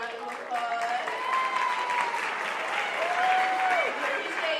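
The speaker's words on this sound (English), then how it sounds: "Round of applause." Audience applause at a high school commencement ceremony, steady sustained clapping from a large crowd lasting several seconds, with faint sustained tones drifting over it.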